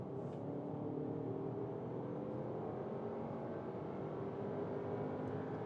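Skoda Kodiaq VRS accelerating from 80 to 130 km/h, heard from inside the cabin as a steady, muffled engine drone under road noise, fairly quiet and continuous with no speech.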